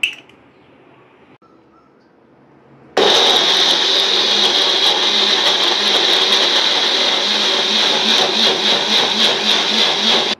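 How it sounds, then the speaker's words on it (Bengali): A mixer grinder grinds chopped ginger into a paste for homemade vegetarian tomato sauce, starting abruptly after a few seconds of quiet and then roaring loudly and steadily with a slightly fluctuating whine until the end. "এবার এই গ্রাইন্ডারের মধ্যে দিয়ে এটাকে পেস্ট করব।"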